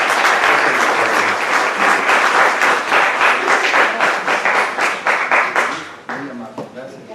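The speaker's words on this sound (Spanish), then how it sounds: "les pido le demos un fuerte aplauso" An audience claps for a speaker at a hospital general session, dense applause thinning into scattered individual claps before a voice begins.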